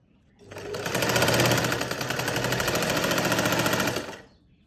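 A sewing machine runs steadily for about three and a half seconds while stitching the sleeve of a garment, a loud, close, continuous mechanical whir with a fast rhythmic chatter and no talking.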